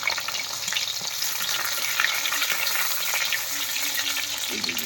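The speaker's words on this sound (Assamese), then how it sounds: "আগতে ভাজি লওঁ মাংস বনাবৰ কাৰণে।" Local pork frying in a pan, a continuous close sizzle and crackle of hot oil holding steady throughout with no voices.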